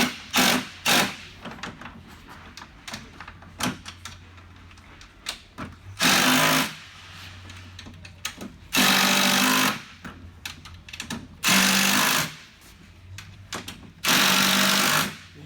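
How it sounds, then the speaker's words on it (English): A handheld impact gun drives fasteners into a Uline Rubbermaid plastic cart during assembly, firing four loud, sustained hammering bursts of about a second and a half each, separated by lighter knocks and handling clatter. "Using an impact gun, make sure that you just don't over tighten"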